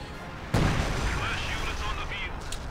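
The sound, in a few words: rocket artillery barrage in Company of Heroes 2 video game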